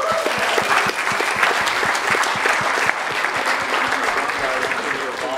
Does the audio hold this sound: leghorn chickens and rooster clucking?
no